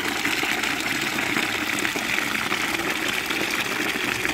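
Milk gushing steadily into a calf feeder container on a farm, a continuous close pouring and splashing rush with no talking.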